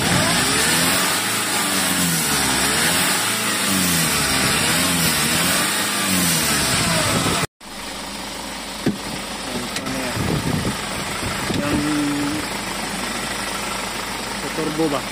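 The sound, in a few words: Kia Bongo 3 engine revving and idling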